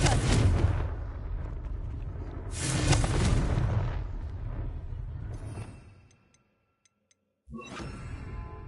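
Confringo blasting spell from Hogwarts Legacy: two heavy, booming explosive blasts with long rumbling tails, followed by a brief silence and then a sharp new magical burst near the end.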